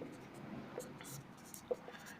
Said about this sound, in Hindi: मैं यहाँ लिखता हूँ